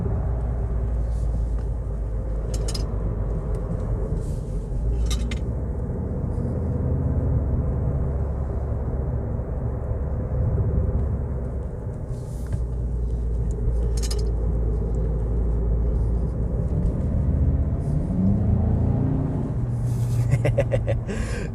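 A 2022 Volkswagen Golf 8 GTE plug-in hybrid drives steadily, its cabin filled with a continuous low engine rumble and artificial engine sound through the speakers, with occasional faint clicks over the drone.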